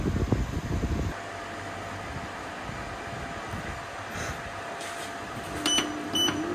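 A home air conditioner's compressor kicks in while running on a Growatt 6000W low-frequency hybrid inverter with a 48V system, starting with a low thump and then settling into a steady mechanical hum and fan drone.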